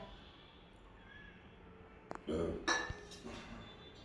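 A spoon stirs onion-tomato paste in a kadhai with oil and spices, giving a few short metallic scrapes and clinks near the end after a quiet stretch.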